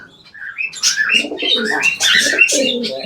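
Pigeons coo and chirp close up in a home loft where a breeding pair has young, several overlapping calls filling a few seconds with no talking.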